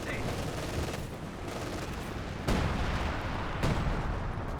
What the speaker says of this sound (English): may receive base artillery fire in the Shun Pioneers